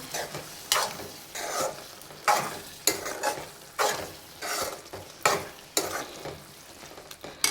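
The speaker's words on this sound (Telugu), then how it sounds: "ఇప్పుడైతే కలుపుకుందాం మంచిగా" Tomato curry being stirred in a pan, the spoon scraping in regular sweeps about once a second over a soft simmering sizzle, fairly close and without talk.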